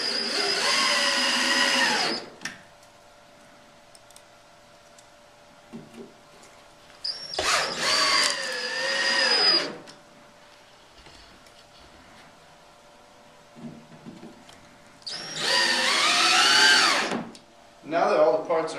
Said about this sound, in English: secure the bunkie boards to the bed face around the perimeter using the 3/4 inch screws